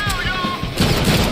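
Gunfire in the Deadpool video game comes as a dense, rattling burst of shots in busy game audio, with a voice talking over it and the firing growing heavier toward the end.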